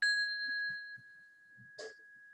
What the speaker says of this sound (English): And I start with this little bell.